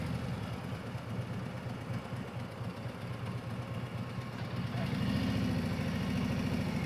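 Motorcycle engines idle in a parking area by a main entrance amid construction in Nashville, a steady low rumble that grows louder and more throbbing near the end.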